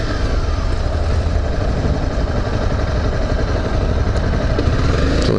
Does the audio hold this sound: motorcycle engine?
yes